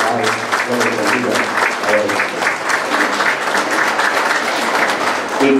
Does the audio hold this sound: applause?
yes